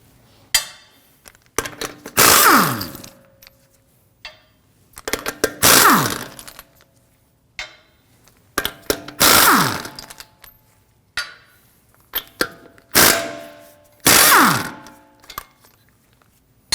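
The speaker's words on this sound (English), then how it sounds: "With the vehicle raised and supported, we can remove our lug nuts with a 22mm." Lug nuts coming off a 2016-2022 Honda Pilot with a 22mm socket, as five loud, evenly spaced bursts of rattling hammering that each wind down, with small clinks of metal between.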